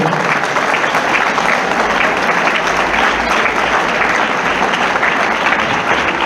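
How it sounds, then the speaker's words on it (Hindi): An audience at a road safety show applauds to welcome a guest, steady, full clapping from a large crowd throughout with no pause. "उनका भी आप तालियां बजा करके स्वागत करिए"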